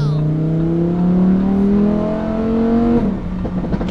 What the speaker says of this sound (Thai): เสียงแบ็คไฟเออร์มันฟินมาก